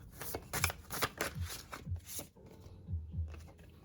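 Tarot cards being shuffled by hand, a run of quick papery riffles and soft slaps in close succession, fairly near and moderately loud, with no talking.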